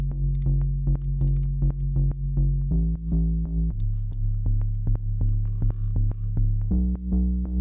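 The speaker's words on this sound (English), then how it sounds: "It sounds like this with the bass that I've just copied over from the melody." A gritty synth bass from a Vital preset in a dirty garage track, doubling the melody, pumps out a steady run of short, punchy repeated notes with sharp attacks, shifting pitch every few bars, loud and alone.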